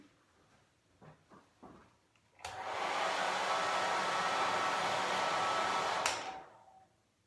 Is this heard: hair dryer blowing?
yes